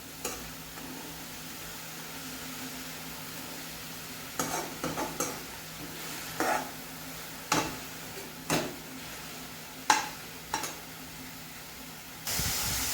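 Spinach sizzles and hisses steadily in a pan over a high gas flame, with a series of sharp stirring scrapes and clicks punctuating the frying every second or so.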